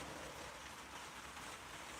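Heavy rain drums steadily on a ceiling in a spoon-carving workshop during a live stream, a dense, even hiss of close, continuous patter with no voices.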